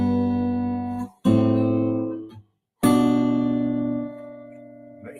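A guitar plays the walk-up from a song, in two short phrases of plucked notes separated by a brief silence, close and clean with no talking.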